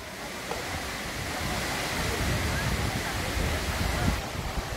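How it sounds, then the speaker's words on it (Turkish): A waterfall at Düziçi in Osmaniye sends out a steady, dense rushing roar that fills the whole clip at an even level, close and continuous with no breaks. "Burası Düziçi Osmaniye bağlı bir şelale."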